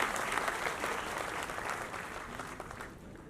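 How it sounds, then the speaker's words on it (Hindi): Audience applause at an education awards ceremony in Ambala, welcoming a guest onto the stage: sustained, dense clapping from a crowd that stays steady and slowly eases off. "तालियां बजाते हैं आपके स्वागत के लिए।"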